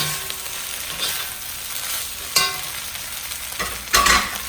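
Thai crab fried rice (Kao Pad Pu) is stirred as a thin, watery sauce is worked in, giving a steady sizzle with scraping, shuffling strokes and a few sharper clatters near the end, with no voices.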